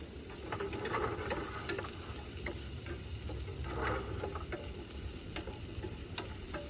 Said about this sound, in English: is some butter and oil, and what I've got in here, onion, heaps of garlic, and a little bit of chilli